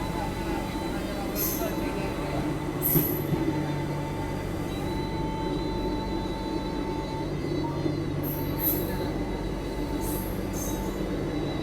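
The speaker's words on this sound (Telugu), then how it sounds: "సింహాద్రి ఎక్స్ప్రెస్ ప్లాట్ఫామ్ 1 మీదకి చేరుకుంటుంది" Simhadri Express pulling into platform 1 at Samalkot Junction, a sustained low rolling rumble of rail cars with occasional high wheel squeals and hiss, fairly close, a voice faintly audible beneath.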